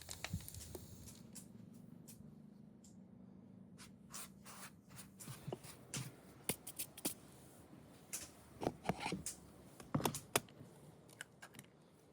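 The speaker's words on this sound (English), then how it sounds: "I cut frozen butter and chopped it then with flour" Frozen butter cut and chopped into flour for shortcrust pastry dough in a village kitchen, with irregular close knife taps, scrapes and crumbly rubbing, soft and sparse, getting busier later, no talking.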